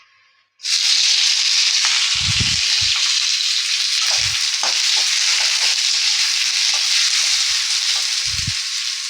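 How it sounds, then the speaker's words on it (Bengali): Chopped onion with nigella seeds hits hot oil in a pan and breaks into a loud, steady sizzle that continues throughout, with a few low knocks from stirring. "পেঁয়াজটা একটু ভাজা করে নেব।"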